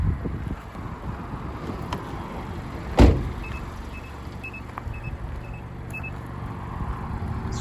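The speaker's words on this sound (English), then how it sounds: "It's just beeping at me because I've got the key and the car is still running." A 2016 Mazda MX-5 2.0 sounds a key-in warning with the engine running: a series of faint, evenly spaced chime beeps over a low idle hum and wind noise, with a single sharp knock partway through.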